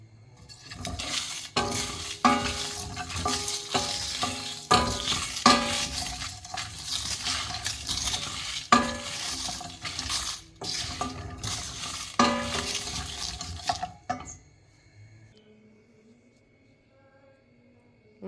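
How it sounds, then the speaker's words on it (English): A pan dry roasting spices with lemon-sized tamarind, stirred steadily with scraping and clinking of utensil on metal under a constant sizzle, then dropping suddenly to near quiet for the last few seconds. "We'll heat a pan, dry roast all these ingredients"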